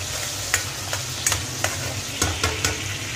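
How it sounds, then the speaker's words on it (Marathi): Tomatoes fry in a pan under a constant low sizzle, with sharp spatula taps and scrapes from stirring landing every half second or so; no voices. "टोमॅटोबरोबर त्याला फ्राय करून घ्यायचे"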